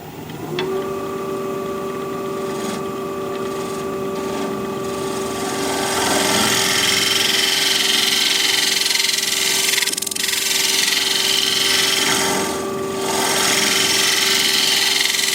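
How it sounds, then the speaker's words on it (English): A woodturning scraper being sharpened gives a steady, continuous grinding whine with a bright, hissing edge. It holds evenly for about fifteen seconds and grows slightly louder partway through, with no talking. "Let me sharpen one up."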